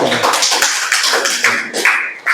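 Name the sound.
applause for a student group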